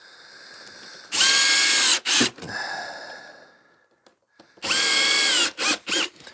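A power drill drives screws through a composite deck board in two loud close bursts, each a steady whirring run ending in short stuttering pulses, separated by a quieter pause.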